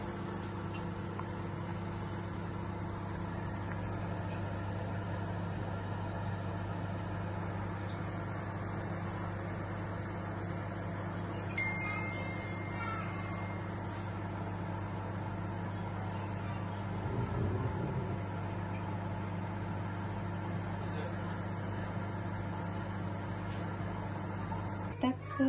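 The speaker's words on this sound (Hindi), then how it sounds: "माइक्रोवेव में बन रहा है" A running microwave oven drones with a steady low electrical hum throughout, with faint high whine, under occasional quiet talking.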